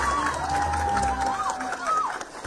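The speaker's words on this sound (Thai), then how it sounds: "ขอเสียงปรบมือให้พวกเขาด้วยครับ" A crowd at a Future Forward Party political gathering in Thailand cheers and applauds members of parliament, with steady dense clapping and whistle-like whoops rising above it, fairly loud and sustained throughout.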